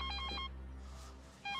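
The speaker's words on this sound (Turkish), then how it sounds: "Telefonu çalıyor." A telephone ringtone chirps in bright, repeating tonal bursts, drops away into a quiet room for about a second, then starts ringing again at the end; no one speaks.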